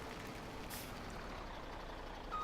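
A truck in Farming Simulator 17 gives a low, steady engine rumble with a short hiss partway through and a faint beep near the end, all quiet and with no one speaking.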